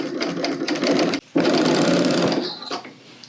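An overlock serger runs steadily, stitching a fabric seam on a garment facing. The machine hums close and loud, breaks off for a moment, then resumes and tapers off at the end.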